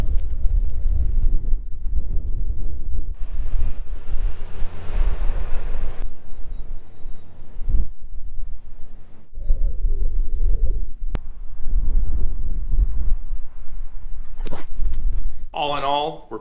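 Gusty wind buffets the microphone outdoors on a sunny, warm day, giving low rumbling bursts throughout, with a brief bird call near the end.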